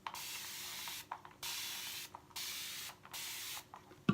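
A spray bottle misting water onto curly hair in four long, steady hissing bursts separated by short pauses, close and fairly quiet, with no talking.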